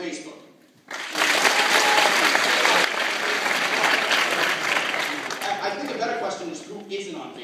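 An audience at a stand-up comedy show bursts into applause after a brief quiet moment, loud sustained clapping that gradually thins toward the end as a voice begins talking over it.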